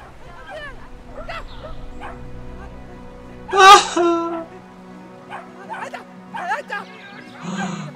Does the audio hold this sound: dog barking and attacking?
yes